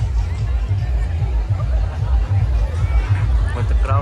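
Dense crowd babble fills a busy stretch of Goa beach on Titos Lane in Calangute, a steady, close wash of many overlapping voices over a low rumble with no single speaker standing out.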